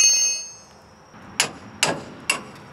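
Three sharp metallic hammer strikes ring out at roughly half-second intervals on the front suspension of a 1976 GMC motorhome, knocking the upper ball joint loose. Each clang is close and distinct over a quiet workshop background.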